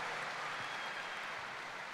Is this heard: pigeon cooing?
no